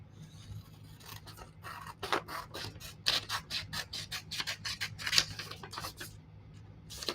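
Scissors snip through paper for a homemade Halloween book, a quick run of close, crisp cuts with a steady rhythm under a low background hum.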